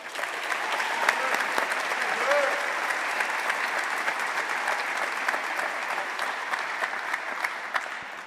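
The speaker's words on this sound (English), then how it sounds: "Give him another round of applause." Sustained applause from an audience at a physical therapy white coat ceremony, even, brisk clapping filling the room at moderate volume, with a faint voice briefly audible beneath it.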